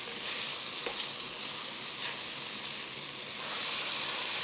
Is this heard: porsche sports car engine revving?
no